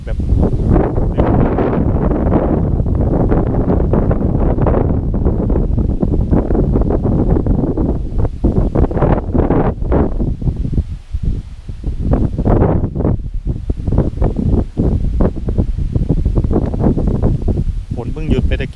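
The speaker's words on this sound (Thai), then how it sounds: "ฝนเพิ่งหยุดไปตะกี้นี่ครับดูนะครับลมแรงมากนะ" Strong gusting wind from storm Noul sweeping over northeastern Thailand just after rain, a loud continuous roar and buffeting against the microphone, varying in force throughout.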